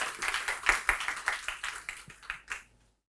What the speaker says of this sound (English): Let's welcome him with a warm applause.